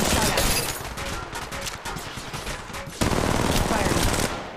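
Rapid automatic gunfire in Apex Legends Mobile, dense sustained bursts of shots with brief gaps and a louder volley near the end, close and continuous.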